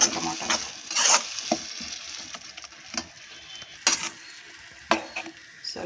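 Tomatoes fry in a pan while a spoon stirs them, a soft steady sizzle broken by repeated scraping and clinking strokes against the pan, close and clear with no talk.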